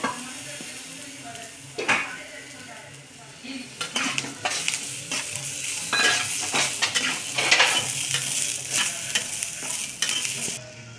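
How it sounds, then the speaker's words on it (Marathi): Masala of green chillies, ginger and garlic roasting and being stirred in a pan, with steady frying sizzle, scraping stirs and occasional clinks of a utensil against the pan, close and moderately loud. "बघा मसाला भाजून झाला आहे"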